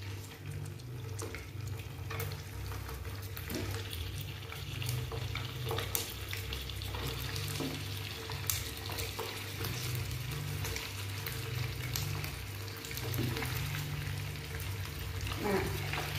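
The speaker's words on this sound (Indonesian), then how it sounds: "Terus ayamnya ini akan kita goreng" Chicken pieces frying in hot oil in a pan, a steady crackling sizzle with bursts of spattering and occasional stirring clatter, continuous and close, with a low hum underneath.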